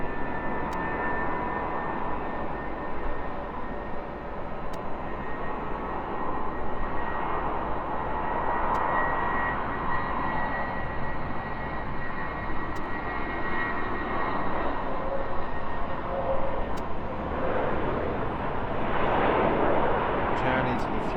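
Emirates Airbus A380 in a special livery at Heathrow Airport, its engines giving a steady, loud broadband roar that holds throughout, with a faint voice in the background.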